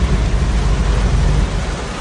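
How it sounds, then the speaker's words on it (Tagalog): Heavy rain pours down in a dense, continuous roar with a deep rumbling low end, loud and unbroken throughout with no voices. "grabe guys, ang lakas na ng ulan"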